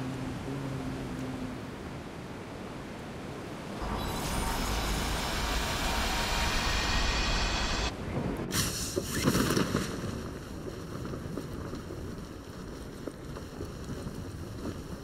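A transport plane flies over the map in BGMI, played on an emulator, making a steady, loud engine drone that holds throughout, with a shift in tone about halfway through.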